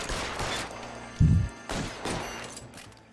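Gunfire in the 2013 video game L.A. Noire: several bursts of shots, with one heavy, loud blast near the middle and lighter volleys around it, against a busy game background.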